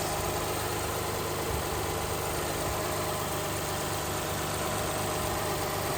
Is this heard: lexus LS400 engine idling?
yes